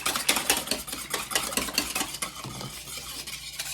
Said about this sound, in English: I'm gonna use my whisk, and I'm just going to whisk it in.